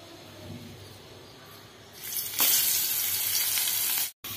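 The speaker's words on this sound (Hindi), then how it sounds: "तो हल्दी नमक का कोटिंग हो गया है, अब इसको हम फ्राई करेंगे।" Eggplant slices coated in turmeric and salt sizzling in a frying pan, a quiet crackle that swells into a loud, steady hiss halfway through and cuts off briefly near the end.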